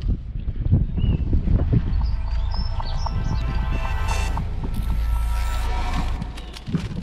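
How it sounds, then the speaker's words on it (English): Strong wind gusts outdoors buffet the microphone in a steady low roar that runs for several seconds, with faint scattered noises and no speech. "A bit windy out here."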